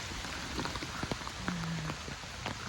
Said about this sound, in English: Oh, it's starting to rain harder.